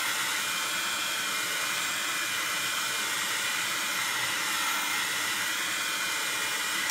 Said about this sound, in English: I'm just going to heat this one final time just to make sure it's dry